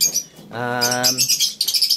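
African lovebirds in an aviary chirp in quick, bright bursts, mixed with a short harmonic squawk, close and fairly loud.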